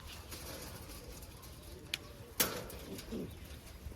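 Kept racing pigeons coo softly and low in a steady murmur, with a few sharp knocks and rustles over a constant background hiss.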